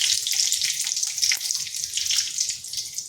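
Panch phoron and a dried red chilli frying in about two spoons of hot oil, a steady loud hissing sizzle with small crackles, close and continuous with no talk.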